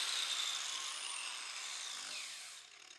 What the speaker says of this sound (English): Clean up the edges where we're going to weld to.